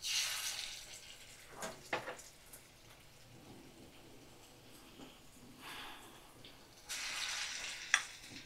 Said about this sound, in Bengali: আর এই দেখো আমি ছোট ছোট বড়ির মতন করে দিয়ে দিচ্ছি গরম তেলের মধ্যে।